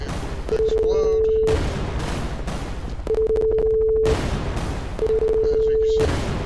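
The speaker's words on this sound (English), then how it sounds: "After the bomb hits the ground, it will explode." Bombs exploding on the ground in a video game, three loud blasts at roughly even intervals, each paired with a steady electronic tone, dense and close over constant rumbling noise.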